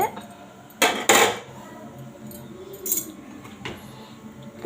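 A ladle stirs radish sambar in a metal pot, giving a few sharp clanks and scrapes around a low background with no talking.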